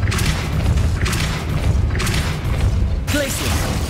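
A Depulso force spell is cast in Hogwarts Legacy, giving four heavy, booming whooshes at an even roughly one-second beat over a low, rumbling backdrop.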